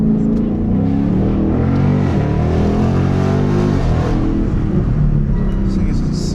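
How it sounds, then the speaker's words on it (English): A 450HP Ford Mustang GT with an H-pipe, not yet a full exhaust, accelerates on the road, a loud deep rumbling exhaust note rising and holding up close from inside the car. "This thing sounds insane, bro. I love the H-pipe on this car."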